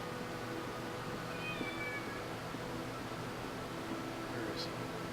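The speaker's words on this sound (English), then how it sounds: "Oh, there's my kitty." A pet cat in a video game gives faint, brief meows at about 1.5 and 4.5 seconds, half buried under steady background hiss and a low hum.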